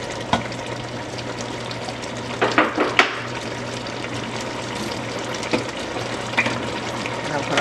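Black beans with roasted pork are stirred in a pot. Scattered utensil clinks and knocks sound over a steady, close bubbling hiss.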